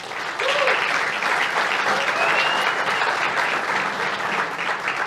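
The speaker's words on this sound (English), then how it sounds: "So a cheer and a round of applause for our volunteers." A crowd at an awards ceremony applauding continuously, loud and dense, with a brief faint voice or cheer near the start blending into the clapping.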